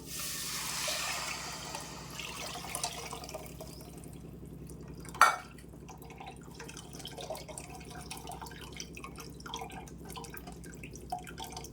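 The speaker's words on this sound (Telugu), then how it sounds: "ఇప్పుడు మనము చింతపండు పులుసు వేసేద్దాం." Tamarind water poured into a pot of green chilli and onion rasam, a soft drip and trickle with one sharp splash midway, close and alone.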